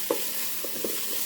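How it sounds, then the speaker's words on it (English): Rice toasts in a Ninja Speedi cooker with a soft steady sizzle and a few brief stirring scrapes, close and quiet. "I'm going to toast that rice around as well for just a few minutes"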